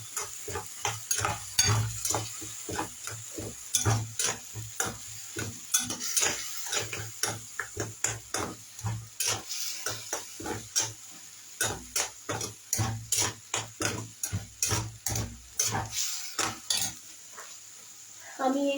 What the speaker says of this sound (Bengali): এবার দিয়ে আমি এটাকে একটু ভালো করে কষতে থাকবো।